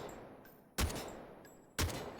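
Gunfire at a firing range in the game Delta Force Hawk Ops: two sharp, loud single shots about a second apart, each with a short ringing tail, over a quiet background.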